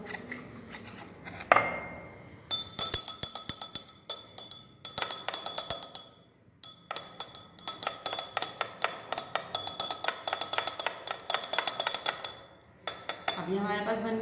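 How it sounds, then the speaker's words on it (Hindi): Chalk powder is stirred into water in a glass beaker, giving rapid, rhythmic clinks and scrapes of a stirrer against glass. The clinks come in close, bright bursts with brief pauses between them. "इसको हम मिक्स करेंगे वाटर के अंदर जो कि बीकर में मौजूद है हमारे पास"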